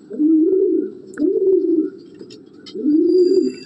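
An old-style Giribaz pigeon, a breeding cock, coos three times in a close, soft, rolling rhythm, with short pauses between the coos in a quiet setting.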